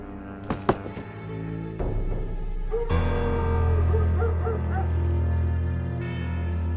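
A dog in the game Full Throttle Remastered, a few sharp yips and short barks up close, then whimpering and whining under a steady low droning hum from the game.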